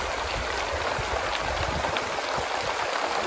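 Heavy summer rain pours down in a dense, constant hiss of falling water near a field drain that cannot keep up, steady and unbroken throughout.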